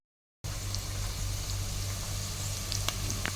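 Coriander and cauliflower frying in oil give a steady, close sizzle with small crackles and pops throughout after a brief silent start, and no talking.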